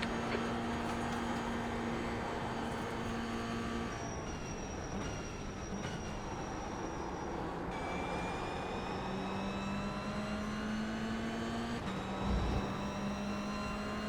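A Toyota GR86 in a sim racing game drones continuously, its engine note holding steady tones that step and shift with gear changes, alone with no speech.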